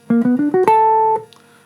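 A jazz half-step exercise from Barry Harris's teaching, played at a brisk tempo as a quick run of rising tones ending on a held chord that rings out and stops, alone with no talking.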